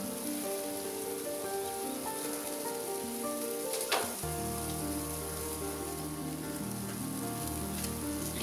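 Mushroom skewers sizzle steadily on a grill, a continuous bright crackling hiss with a brief sharper pop midway, close and even throughout with no voices.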